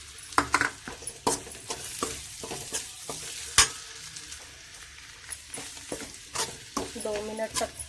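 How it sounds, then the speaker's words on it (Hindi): Boiled potato frying with masala for aloo puff filling, heard as frequent scraping stir strokes and spoon knocks against the pan over a low sizzle, close and uneven, with no talk. "दो मिनट तक फ्राई करेंगे।"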